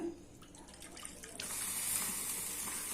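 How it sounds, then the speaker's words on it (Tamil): Running water pours steadily, growing louder and fuller partway through as it fills a pressure cooker with kodo millet for sweet pongal. "அரிசி எடுத்த கப்லேயே 4 கப் அளவுக்கு நம்ம தண்ணி சேர்க்கணும்"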